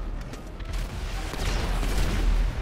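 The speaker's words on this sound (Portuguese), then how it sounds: "Caraca, RD, passou na tua cabeça dois tiros de RPG." Rocket launcher blasts from an RPG deathmatch in the video game GTA V, a rumbling stream of explosive booms and gunfire-like bursts played fairly quietly, steady and building slightly, with no voices over them.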